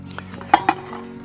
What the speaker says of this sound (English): So you've got your windbreak, sits on top, that locks in, just slides and locks.